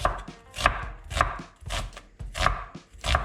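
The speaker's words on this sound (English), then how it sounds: "Chop the onion, not too thick, not too small" A knife chops an onion on a board, with six or so close, thudding cuts at a steady, unhurried pace and no voices.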